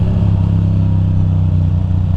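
Motorcycle ridden on Route 6 near Bear Mountain, its engine a loud, close, steady droning hum with a firm low note held throughout.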